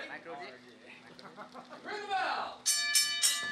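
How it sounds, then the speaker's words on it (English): A wrestling ring bell starts a tournament semifinal match, three quick bright clangs at the end, after a commentator speaks over crowd noise. "Bell sound"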